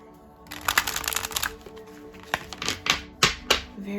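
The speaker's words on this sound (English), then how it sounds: "And one more shuffle." A deck of playing cards being shuffled nearby, with bursts of rapid riffling clatter in two groups separated by a short pause, heard alone without talk.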